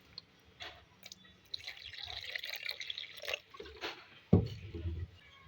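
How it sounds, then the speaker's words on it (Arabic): Water poured over a spiced fish mixture with dried coriander and turmeric, heard as soft trickling and dripping with a few wet splashes, close and fairly quiet, with a sharper thud near the end. "واحط عليهم شويه ميه"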